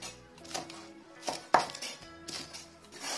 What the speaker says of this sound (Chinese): 再把香葱拍扁切断